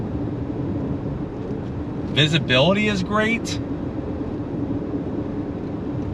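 Steady broadband road and outside noise inside a 2025 Toyota Crown hybrid sedan while driving, a continuous low rumble heard throughout, with a person speaking briefly in the middle.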